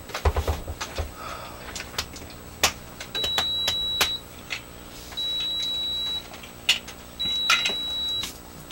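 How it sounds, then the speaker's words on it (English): An electronic device emits three steady, high-pitched beeps, each about a second long and spaced about two seconds apart, over faint background taps and clatter. "Something's beeping."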